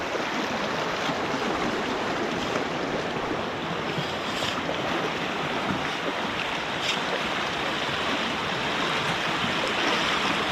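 Rushing water of Cajon Creek flows steadily and loudly nearby, a constant broadband wash with no voices present.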